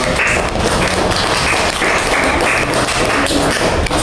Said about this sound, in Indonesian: Nah, boleh ada tepuk tangan.